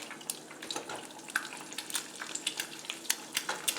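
An egg frying in a pan crackles and spits with quick, irregular pops over a soft, steady sizzle, close and fairly loud with no talk.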